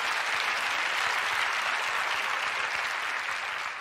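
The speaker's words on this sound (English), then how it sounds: "You should applaud yourselves" Studio audience applause on a talk show, a dense, steady wash of many hands clapping that fades slightly near the end.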